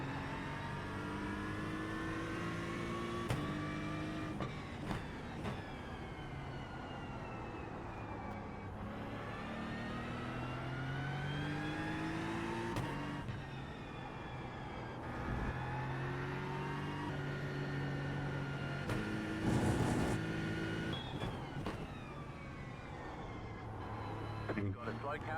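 A race car engine in a sim racing game climbs through Eau Rouge, its tone rising and falling steadily through gear changes for the whole stretch, with voices talking over it.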